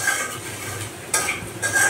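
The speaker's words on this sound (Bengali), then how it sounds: "আলু ভাজাগুলো ভালো মতো হয়ে গেলে এর ভিতরে পেঁয়াজ দিয়ে দিতে হবে" Onions and fried potatoes for a river fish curry sizzle in a pan while a spatula stirs and scrapes against the metal, close and steady with a few sharper clinks.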